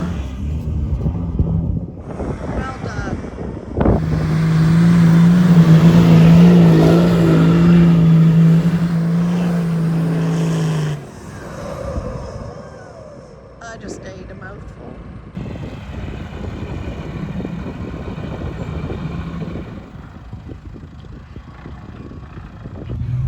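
A 4WD vehicle drives through the Simpson Desert, its engine droning loudly and straining under load before easing to a quieter, steadier running note, with voices talking over it.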